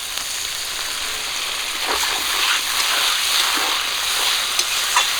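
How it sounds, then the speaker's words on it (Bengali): Spiced potatoes are stir-fried with a little water in a pan, giving a steady hiss and sizzle with soft stirring scrapes and small splattering bursts throughout, close and continuous. "মশলার আলুটা একটু ভাজা করে নেব ভেজে নিয়েছি অল্প একটু জল দিয়ে কষিয়ে নেবো"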